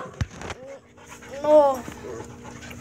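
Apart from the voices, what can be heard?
puppy panting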